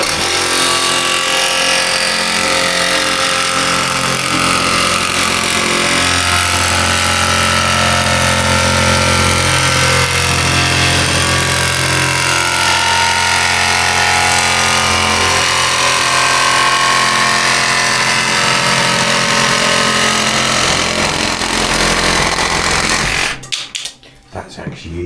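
A reciprocating saw fitted with a metal blade cuts through the body of a scrap MG GT. It gives a loud, continuous, rasping buzz that runs for about twenty-three seconds and then cuts off abruptly.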